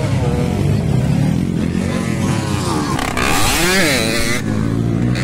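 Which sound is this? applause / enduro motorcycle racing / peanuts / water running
enduro motorcycle racing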